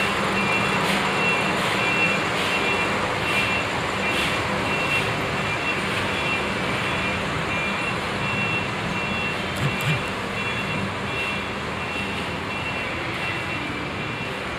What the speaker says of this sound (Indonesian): Dan benar dia menggunakan bus Scania ya, Scania Maxi.